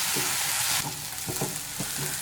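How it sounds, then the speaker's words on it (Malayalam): Onions with curry leaves sautéing in a pan for a coconut-free fish curry, a loud, close, continuous sizzle broken by a few rhythmic scraping stirs, with no voices. "ഇനി സവാള ഒരു ലൈറ്റ് ഗോൾഡൻ ഷെയ്ഡ് ആവണ വരെ നന്നായിട്ട് വഴറ്റിയെടുക്കാം"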